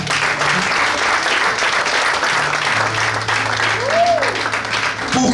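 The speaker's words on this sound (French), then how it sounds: "Nous pouvons applaudir." An audience at an art exhibition opening claps together, a steady dense round of applause that stays loud and even throughout.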